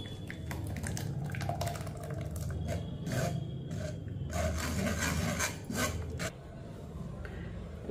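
Blended red juice for a weight loss drink is poured through a strainer into a bowl, giving a soft continuous trickling and rasping wash with small splashes, faint and close, with no voices.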